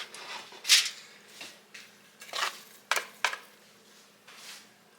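A metal pan clanks and scrapes as it is set down and handled on a kitchen counter, several distinct knocks and clatters spread out over a quiet background.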